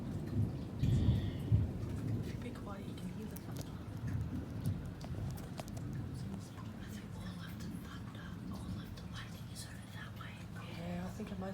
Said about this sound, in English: If you be quiet, you can hear the thunder.